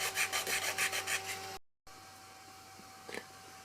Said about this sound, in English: Might have to do just a little bit of hand sanding, get the fuzzies off.